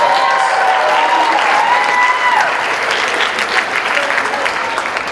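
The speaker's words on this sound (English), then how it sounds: "give yourselves a round of applause" Sustained audience applause at a high school winter concert, loud and dense, with a few cheers or whistles early on before the clapping carries on steadily.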